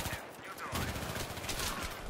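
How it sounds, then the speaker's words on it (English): Rapid, continuous gunfire in the video game Battlefield 3, heard fairly faintly and mixed with game noise. "Why are you shooting at me?"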